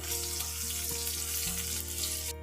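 Crushed garlic and a bay leaf fry in a pan with a continuous close sizzle and crackle, and faint stirring or clinking sounds come through now and then.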